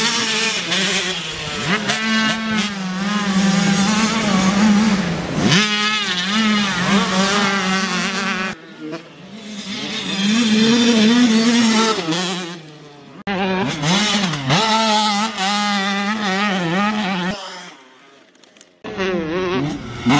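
A Husqvarna 85cc motocross dirt bike engine screams close by while being ridden hard, with repeated rising and falling revs through several bursts, shifting pitch between gears and a couple of brief drops to near silence.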